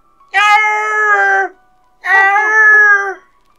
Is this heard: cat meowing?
yes